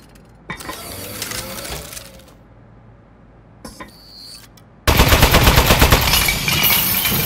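A turret gun in Aperture Desk Job clatters through a few scattered shots and mechanical clicks, then bursts into a loud, sustained rapid-fire volley in the last few seconds.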